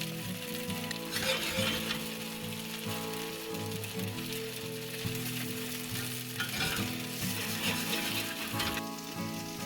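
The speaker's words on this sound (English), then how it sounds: "We'll add a little bit more oil to help crisp up the bottom side." A Korean zucchini vegetable pancake fries in oil in a pan, giving a steady, dense sizzle with crackling bursts that swell and ease throughout, close and continuous with no talking.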